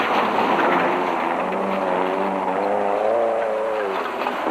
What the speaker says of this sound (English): The Maluti Mountains were reverberating to the sounds of these big engines